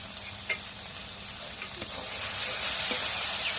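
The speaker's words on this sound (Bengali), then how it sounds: "মশলাটা একটু কষানি করে নিই।" Spice paste of cumin and garlic frying in a pan, a soft steady sizzle with occasional stirring scrapes, the hiss rising and thickening partway through.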